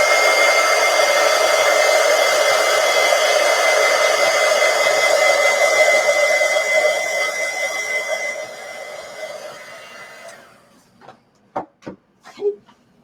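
A hair dryer blowing on a chalk art project, a steady loud whirring whine that runs for about ten seconds, then winds down and stops, followed by a few soft knocks and handling sounds.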